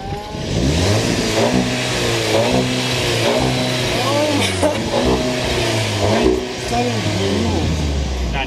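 A 2019 Seat Leon Cupra engine revs loudly and steadily up and down close by, its pitch climbing and falling in repeated sweeps, while people talk excitedly over it.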